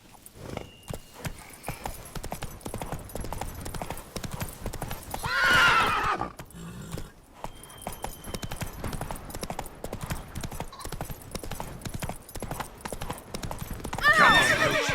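In The Witcher 3: Blood and Wine, a horse gallops with rapid, continuous hoof clip-clops and lets out two loud whinnies, one midway and one at the end, over game ambience.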